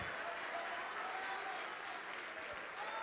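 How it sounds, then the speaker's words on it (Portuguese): A church congregation applauds in a steady, dense patter of many hands, continuous and fairly distant, with faint voices mixed in. "Vamos aplaudir mais, igreja."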